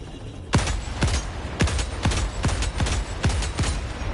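Gunshots fired at an enemy's head in Helldivers 2, around a dozen sharp, punchy reports at a steady, fairly quick rhythm, loud and close with no voices over them.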